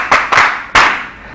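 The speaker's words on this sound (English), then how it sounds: "Clap for yourself." A few loud, close claps from children applauding themselves, three distinct sharp bursts with a short ringing tail after each, no voices over them.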